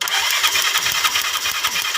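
A Yamaha Mio Sporty scooter's starter motor cranks without the engine catching, giving a loud, steady whirring grind close by, with no voices.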